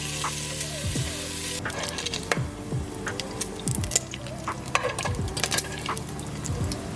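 Bacon fries in a pan with a steady close sizzle and crackle, broken by scraping and stirring sounds and irregular spatters. No one speaks.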